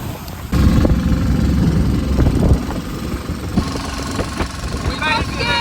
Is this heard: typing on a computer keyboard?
no